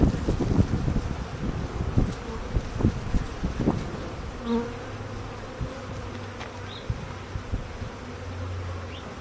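Honey bees buzz in a dense, steady swarm as they are shaken into a hive in Ravenswood, Chicago. The drone is close and continuous, with occasional knocks and handling bumps, and wind noise runs beneath it.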